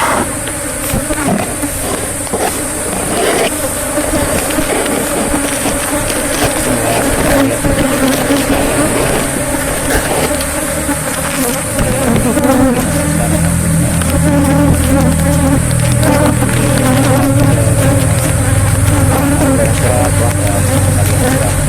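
Kirana bees buzzing in a dense swarm during a honey harvest, a loud continuous drone of many wings close by, with voices talking underneath.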